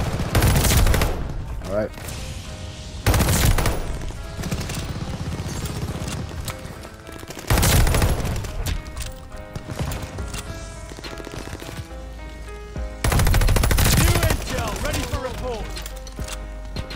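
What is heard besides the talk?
Cooper Carbine gunfire in video game COD Vanguard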